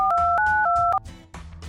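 A telephone keypad in an animated scene plays a quick run of dual-tone dialing beeps, about four crisp tones in a row, close and clear, with a soft low hum underneath and no speech.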